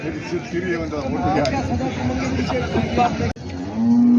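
Cattle low amid the steady hubbub of a crowded bullock market in Parbhani, with people talking throughout and a deep moo rising near the end.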